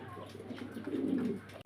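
Soft, low cooing of fancy pigeons in a loft, rolling on for over a second, a murmuring burble with faint background noise and no clear talk.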